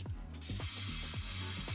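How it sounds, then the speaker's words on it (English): Freezing penetrating oil hisses from a spray can onto an old junkyard car engine in bursts, a steady close aerosol rush with faint clicks and rattles underneath. "Spray everything down."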